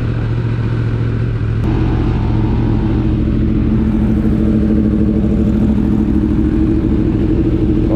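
A Yamaha motorcycle engine, likely an R1 or MT-10, idles after a cold start with a steady low rumble and mechanical clatter. It stays loud and close throughout, with a faint rise in revs toward the end.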